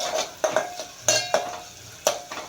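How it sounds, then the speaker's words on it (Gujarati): Sago pearls are worked into rice flour in a metal bowl by hand, giving a few sharp clinks and scrapes at an uneven pace, close and clear with short quiet gaps between them. "આપણે સાબુદાણાને લોટની અંદર નાખીને સારી રીતે મિક્સ કરી લીધું છે"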